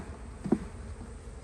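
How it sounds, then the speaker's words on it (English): Honey bees buzz faintly in a low, steady drone as they are shaken off a comb frame, with a brief soft bump midway and no talking. "Let me just shake the bees off here real quick."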